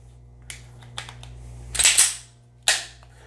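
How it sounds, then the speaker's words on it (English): Ruger Security 380 Lite Rack pistol cycled by hand: a few light clicks, then a sharp double metallic rack of the slide followed by another crisp snap, close up with no talking. "So you got to cycle the gun in order to put the safety on."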